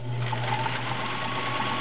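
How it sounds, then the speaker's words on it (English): Vintage Kenmore 1400 sewing machine, a 1.2 amp model, driving a size 16 needle through six layers of denim: a steady, close mechanical hum with a regular stitching pulse throughout. "Let's do 6 layers of denim using a size 16 needle."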